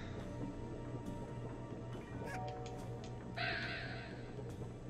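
Crows cawing inside the video game A Hat in Time, several short harsh calls rising over a steady game background hum, followed by a brighter sustained chiming burst near the end.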